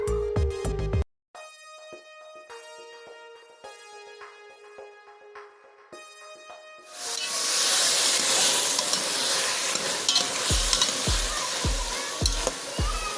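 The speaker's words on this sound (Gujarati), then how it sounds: "પછી તેને તેલમાં નાખી દેવાનું છે અને કોરું તેલમાં સડવા દેવાનું છે" Tuvar beans and eggplant frying in oil. A steady hiss and sizzle begins about halfway through, after a quieter tonal melody, and a few low knocks from stirring come near the end.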